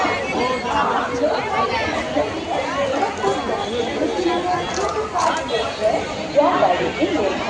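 Dense crowd chatter fills the reservation counter hall at Lokmanya Tilak Terminus station, a steady babble of many overlapping voices with occasional footsteps, loud and close throughout.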